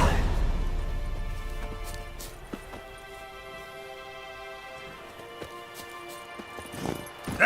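Roach, a horse in The Witcher 3, clip-clops in irregular hoofbeats under game music, with a louder thump at the start and a voice talking briefly.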